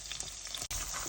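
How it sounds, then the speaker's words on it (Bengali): Chicken pieces with butter, chopped garlic and onion sautéing in a pan, a steady close sizzle with a brief dropout near the end, no talking. "এটা সতে করে নেব"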